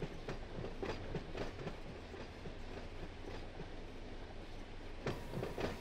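Train cars rolling along rails in the Run 8 simulator on a BNSF local freight, a steady clickety-clack rumble running throughout with periodic wheel clunks and no talk.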